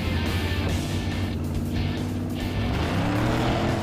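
A Cadillac race car engine roars at full throttle, loud and sustained with a steady rising drone and no pauses, close and dominant throughout.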